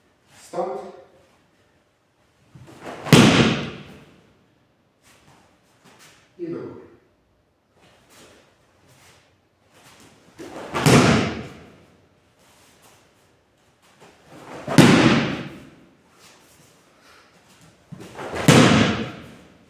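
Repeated forward rolling breakfalls (zempo kaiten ukemi) landing on a training mat: about five loud, broad thuds spaced a few seconds apart, each with a short slap, with quieter shuffling movement between them.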